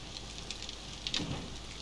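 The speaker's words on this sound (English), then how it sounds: "Working in the rain." Steady rain from the game 7 Days to Die, a soft, even hiss of falling rain with a few brief brighter patters, faint and continuous throughout.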